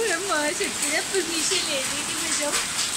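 Hail falls outside in a steady, dense patter like heavy rain, continuous throughout, with voices talking over it.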